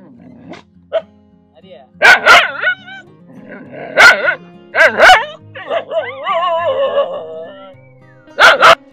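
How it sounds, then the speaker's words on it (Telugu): Several sharp dog barks ring out in separate bursts, mixed with yips and whining, alongside people talking nearby on the path up Parvathamalai hill temple. "మాకు ఈ కుక్కలు తోడుగా ఉన్నాయి."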